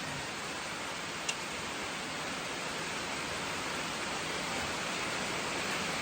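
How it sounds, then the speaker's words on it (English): Steady soft hiss of light rain falling, even and continuous, with one brief tick partway through. "We're finally getting a little bit of rain."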